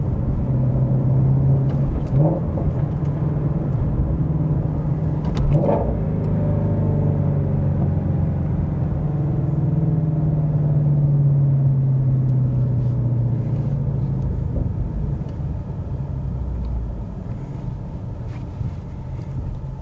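A Ford Mustang Shelby GT350's flat-plane crank V8 roars steadily near the microphone, its low rumbling pitch rising and falling through high revs toward 8,300 RPM, with some wind buffeting.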